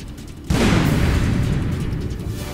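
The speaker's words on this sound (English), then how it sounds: "He's throwing a grenade." Grenade blast in the online shooter APB: Reloaded, a single sudden boom that hits hard after a brief quiet lead-in, then rumbles and decays slowly through a long noisy tail.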